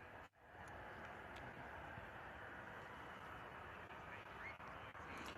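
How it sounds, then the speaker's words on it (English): An Airbus A350-900 airliner passing overhead at Bristol Airport, a steady broad engine roar holding at even loudness throughout with no talk. "what new Airbus A350-900 that I haven't really seen before. Flying over."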